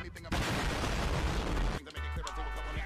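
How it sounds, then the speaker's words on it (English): A loud, bass-heavy explosion from a party video game erupts as a dense, sustained roar lasting well over a second, then cuts off abruptly as voices and game sounds resume. "I love how loud that explosion sound is"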